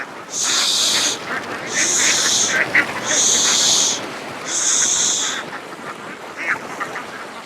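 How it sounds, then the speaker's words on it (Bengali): Ducks on a duck farm quack loudly in four close, repeated bursts, each lasting about a second, with a scattered softer call near the end over steady outdoor background noise. "দেখবেন যে হাঁসগুলা কত সুস্থ সবল এবং কত মানে স্মার্টলি তাদের"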